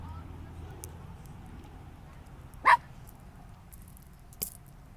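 A pet pup gives a single short, sharp bark at close range in a quiet indoor room, followed a couple of seconds later by a fainter second yip, with low background hum.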